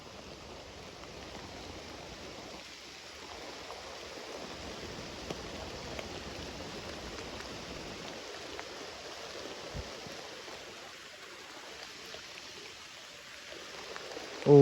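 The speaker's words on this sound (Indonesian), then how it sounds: "Hujan nggak berhenti nih" Rain falls steadily through a Kalimantan forest at a campsite, a soft, even hiss of drops that stays low and constant with no voices.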